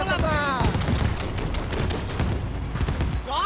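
Rapid gunfire in a Halo 5 match, a dense run of sharp shots and bursts with a voice talking over it at the start and end.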